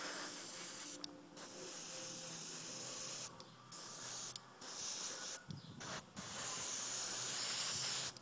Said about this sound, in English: I'm gonna spray it anyway, just so I know the job's all done